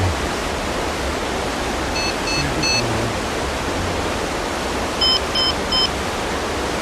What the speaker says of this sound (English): They use white noise.